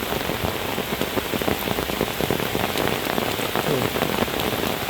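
Heavy rain pours steadily over the countryside on a windy late afternoon, a dense, continuous patter of drops hitting surfaces close by, with no voices.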